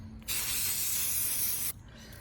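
A spray paint can lets out one close, steady hiss lasting about a second and a half, coating the bottom of a coffee mug, then cuts off abruptly into quiet.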